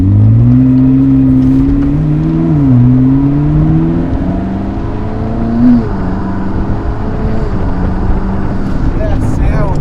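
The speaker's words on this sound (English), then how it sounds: "The turbo sound." A McLaren engine running at its first start after an engine swap, a loud droning rev with rising and falling pitch and turbo whine, heard close and continuous throughout.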